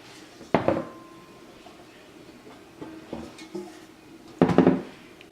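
A Viking 3-ply stainless frying pan, stamped inside with quart and liter markings, handled and set down, giving two loud metallic clanks with lighter knocks between, close by.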